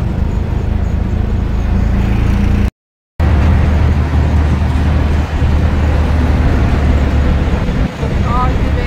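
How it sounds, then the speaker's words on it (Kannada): Busy Bangalore street traffic on New Year's Eve near Brigade Road: a steady, loud roar of cars, buses and motorbikes close by, with horns and crowd noise mixed in. "ಬ್ಯಾಂಗ್ಳೂರ್ ಟ್ರಾಫಿಕ್ ಕೇಳಬೇಕಾ?"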